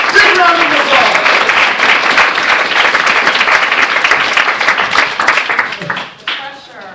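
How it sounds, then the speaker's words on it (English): Conference audience gives a keynote speaker a loud, sustained round of applause, dense clapping holding steady for several seconds before tapering off at the end. "Big round of applause."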